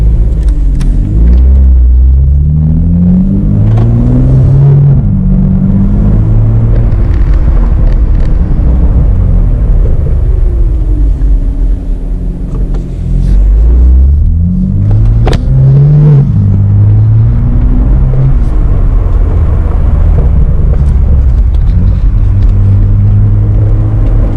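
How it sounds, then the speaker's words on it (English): A BMW M2's exhaust rumbles deep and loud, swelling into repeated revs and accelerations over a steady low engine drone. "Gotta love the sound of that exhaust pipe."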